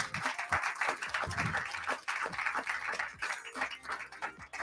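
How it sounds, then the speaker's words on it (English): An audience at a live television talent show final applauds loudly and steadily, with dense clapping and a backing of music or crowd noise for several seconds. "give Steve a massive round of applause"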